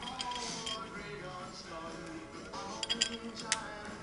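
Bolts are started by hand into a heavy flywheel while installing a clutch on a car being built from the frame up. There are quiet metallic clinks and taps, a few sharper clicks near the end, with faint background noise.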